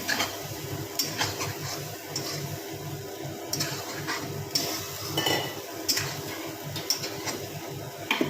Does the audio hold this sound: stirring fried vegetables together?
yes